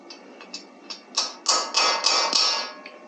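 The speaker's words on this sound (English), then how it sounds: "Gotta hammer it on." Metal hammer blows fitting a part onto a truck during a repair, a rapid run of sharp close taps that grow louder and merge into a dense cluster before trailing off with a few lighter strikes.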